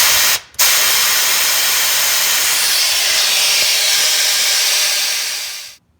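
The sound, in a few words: air compressor blowing out transmission cooler line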